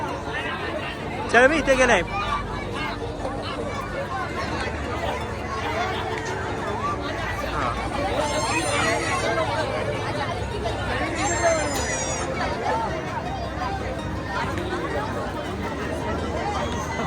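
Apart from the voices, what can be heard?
crowd chatter at Golfa Devi temple fair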